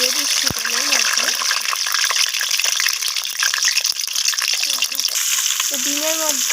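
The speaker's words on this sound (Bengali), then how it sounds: "এরপর আমি সিদ্ধ করে রাখা ডিমগুলোকে দিয়ে দিচ্ছি তেলের মধ্যে।" Boiled eggs fry in hot mustard oil in a pan, a loud steady crackling sizzle throughout with a few stirring knocks.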